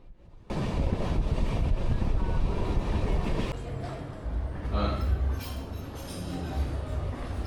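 A Howrah–Radhikapur Kulik Express train on the move, its steady rumble and wheel noise running loud and close throughout after a brief quiet start, with a dip midway and a faint voice beneath.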